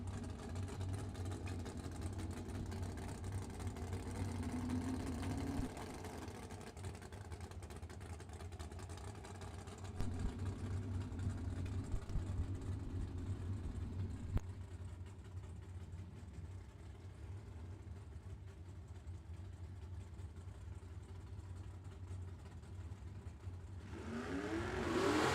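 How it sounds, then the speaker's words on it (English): Drag racing cars, including a 1970 Camaro, doing side-by-side burnouts at a drag strip event: a steady, fairly distant engine roar that holds throughout and swells slightly near the end. "Side-by-side burnouts"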